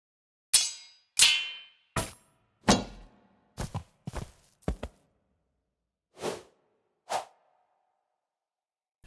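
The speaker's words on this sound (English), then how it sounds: "there's a whole bunch of battle sound effects" A sequence of separate impact sounds, sharp hits, whooshes and clanks, each standing alone with short silences between, crisp and close.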